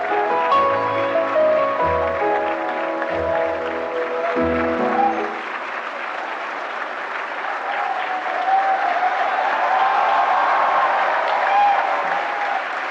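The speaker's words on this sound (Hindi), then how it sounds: "जोरदार तालियों से स्वागत करिए" Loud, sustained applause from a large audience welcomes a young child actor onto the stage at a national film awards ceremony, beginning under a musical fanfare and swelling into steady clapping.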